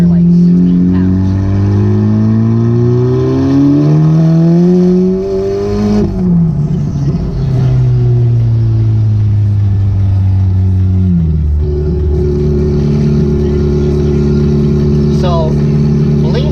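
A Honda Civic Type R FK8 with a hood exit exhaust accelerates hard in third gear on low boost, its loud droning engine note rising steadily, dipping at a gear change and climbing again throughout.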